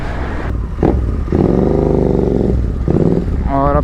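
A Royal Enfield GT 650 motorcycle engine runs loud and close, a rumbling idle that swells with revs into a steady throbbing drone, then dips and climbs again.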